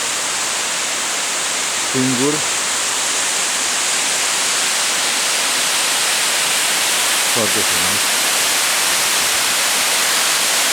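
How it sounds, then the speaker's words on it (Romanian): Clocota waterfall at Geoagiu-Băi, Romania, roars as a dense, steady wash of falling water. Two short bursts of speech cut through the noise. "o cascadă superbă din România"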